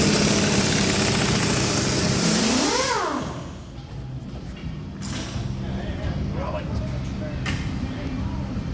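An engine is cranked over briefly, a rising whir that fades at about three seconds, followed by a low rumbling run with faint clicks, heard at moderate distance in an otherwise quiet space.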